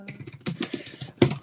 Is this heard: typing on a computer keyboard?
yes